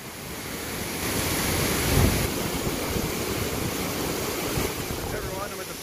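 High Falls, a waterfall in Dupont State Forest, rushes in a loud, steady roar heard close to its base, constant and unbroken from start to finish.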